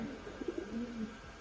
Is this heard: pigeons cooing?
yes